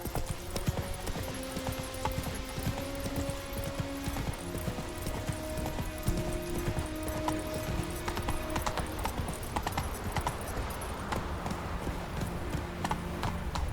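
Roach the horse trots in The Witcher 3, a steady clip-clop of hooves running throughout at a moderate, even distance, layered with game music and ambient tones.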